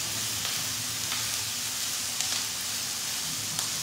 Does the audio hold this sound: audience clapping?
no